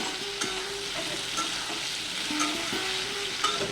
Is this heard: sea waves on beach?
no